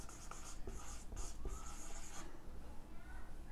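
Chalk or marker scratches quickly across a board during a Hindi biology lesson, in short scraping strokes for a couple of seconds before the room falls to quiet hiss.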